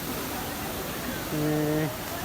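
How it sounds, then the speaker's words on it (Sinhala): A waterfall rushes in a dense, constant roar, with a voice briefly speaking over it near the end. "මෙතන තමයි කුමාරිය ඇල්ල."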